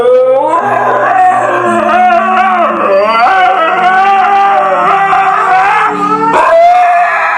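A dog howls in long, wavering, drawn-out cries that rise and fall in pitch, loud and continuous, with what sounds like steady tonal accompaniment underneath.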